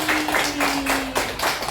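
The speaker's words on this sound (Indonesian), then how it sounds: "kasih tepuk tangan dong buat Arsy." Students in a classroom clap, a short burst of rhythmic, loose claps in quick repeated pulses, close and moderately loud, with a faint voice tone underneath.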